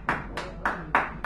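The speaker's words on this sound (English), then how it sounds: "the great big round of applause that we always give here at the Sacred Ground" Applause at an open mic at Sacred Grounds Cafe in San Francisco welcoming a performer, a few slow, evenly spaced hand claps, close and moderately loud, with a quiet room behind them.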